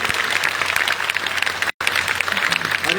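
A school audience applauds a guest walking onto the stage at a school launch event, with dense, steady clapping from many hands that keeps going except for one very brief break.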